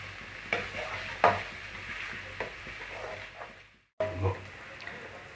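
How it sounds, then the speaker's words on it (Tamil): Onions sautéing until golden over a low gas flame for a potato masala curry, a gentle sizzle with spoon stirring and scraping in the pan, a brief gap, then more stirring beneath a speaking voice. "வெங்காயம் நல்லா கோல்டன் ஃப்ரை ஆகிற வரைக்கும் வதக்கி விட்டுட்டே இருங்க"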